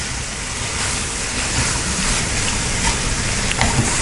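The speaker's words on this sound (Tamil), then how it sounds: "இப்போ நம்ம வேக வச்சுருக்கிற ப்ரோக்கோலி ஆட் பண்ணிக்கலாம். நல்லா பரட்டி விட்டுக்கலாம்." Boiled broccoli is stirred with pepper in a hot frying pan, producing a steady, close sizzle with faint scraping of the spoon throughout and no talking.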